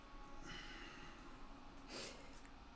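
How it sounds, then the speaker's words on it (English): Soft nasal sniffing from a person, faint and close, with a brief louder breathy snort near the end over low background hiss. "You can hear him sniffing a bit."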